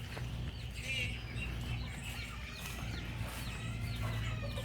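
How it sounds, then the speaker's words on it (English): Chickens cluck and chirp on a back porch where they were moved after a storm flood, among a couple of ducks; soft, scattered calls sit over a constant low hum. "there's all kinds of chickens and a couple of ducks up here"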